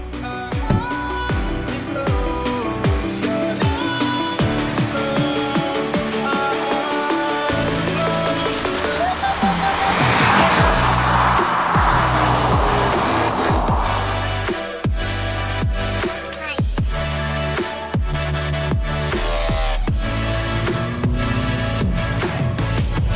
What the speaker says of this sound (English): But let's go for a drive and see how it does.